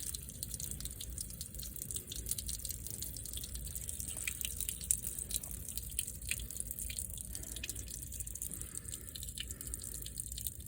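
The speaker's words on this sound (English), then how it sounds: "you could just hear the door full of water sloshing" Rainwater drips and trickles faintly and steadily from inside a flooded door of a 2019 Toyota RAV4, with small splashes scattered over a low background hiss. No one speaks.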